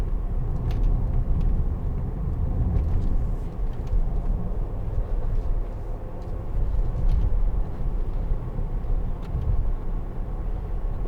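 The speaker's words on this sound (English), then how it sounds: "Changing to sport there, and the revs shoot up, not by too much, 200 or 300 revs I think." A 2012 Range Rover TD V8 diesel on the move, a steady low engine and road rumble heard from inside the cabin, continuous and even with faint clicks and no talking.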